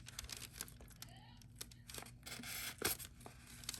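A Demko AD 20.5 knife with a 3V steel clip point blade cuts through two sheets of letter paper, producing quiet close-up tearing and crinkling swipes with a sharper rip near the end.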